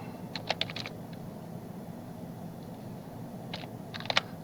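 Quiet clicks of a computer keyboard as a Zoom meeting password is typed, two short clusters of keystrokes separated by a pause, close and soft with no speech.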